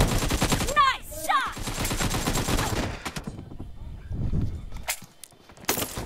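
Rapid bursts of video game gunfire crackle over a noisy background in the first seconds, then fade into quieter rustling with a couple of sharp late bursts; voices murmur faintly.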